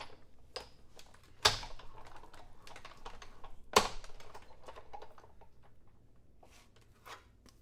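Die cutting paper with a stitched die in a crafting session: two sharp loud clacks stand out among a scattering of lighter clicks and rustling handling noises, close and uneven.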